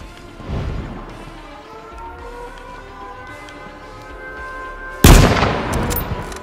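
Sniper and rifle gunfire in the H1Z1 Battle Royale video game, a steady backdrop of game ambience and distant shots followed by one loud, sharp close shot near the end that rings out briefly.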